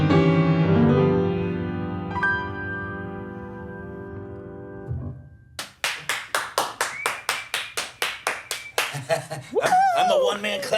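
A single person claps hands at close range after a sustained piano chord dies away, about a dozen crisp, loud, regularly spaced claps, with a voice speaking briefly near the end.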